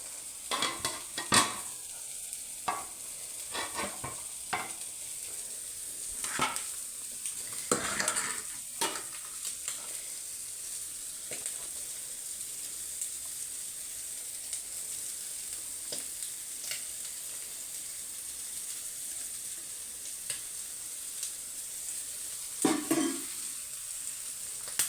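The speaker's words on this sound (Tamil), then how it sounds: "மீனை போட்டுக்கலாம் வாருங்கள்." Fish cooking in a pan on the stove, a soft steady sizzle under intermittent scraping and clinking of a spoon stirring, with a few louder knocks against the pan.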